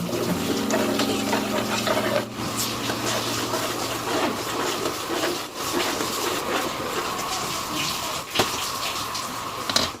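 Cornstarch is stirred into a pot of boiling water, giving a steady bubbling, watery churn with scraping swirls throughout, fairly close and continuous.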